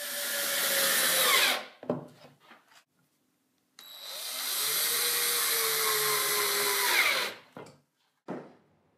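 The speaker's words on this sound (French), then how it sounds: "Il ne faut pas percer des trous trop grands, sinon la vis ne pourra pas mordre suffisamment dans le bois" A power drill bores screw holes in reclaimed wood for a bedside table, running in two long whining bursts separated by short clicks and handling noises, then a brief final whir.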